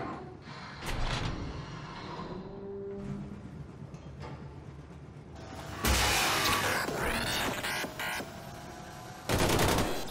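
Gunfire at a shooting range in the video game Wolfenstein II: The New Colossus: bursts of rapid shots and loud blasts with mechanical clanks between them, the loudest volleys arriving in the second half.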